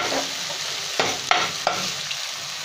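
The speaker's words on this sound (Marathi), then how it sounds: "हे 4 मसाले जे मी दाखवले होते ते मी यामध्ये आता मिक्स करून घेते आहे" A spoon stirs spices into softened tomato masala for a prawn curry, with a steady sizzle from the pan and a few sharp clinks of the spoon against the vessel, close up and without speech.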